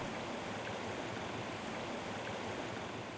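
The Tana River, Kenya's longest, flows with a steady, even broadband rush of water that is fairly faint and continuous, with no voices.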